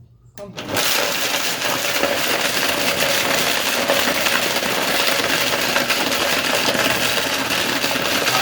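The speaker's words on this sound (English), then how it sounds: "we're crushing, making the flour now" A loud machine grinding dried breadfruit into flour runs steadily with a harsh, whirring grinding noise that starts abruptly and holds constant throughout.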